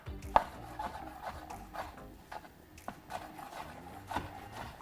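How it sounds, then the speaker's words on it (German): A knife chops king oyster mushrooms into small pieces on a board, giving quiet, irregular taps and soft cuts scattered through the moment, with no talk. "Ich hacke die Kräuterseitlinge in ganz kleine Stücke."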